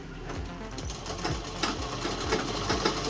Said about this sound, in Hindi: इसी को हम डबल सिलाई लगाएंगे।